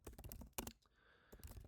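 Rapid bursts of clicking keystrokes on a computer keyboard, close and crisp, with a short pause before the typing resumes, no talking.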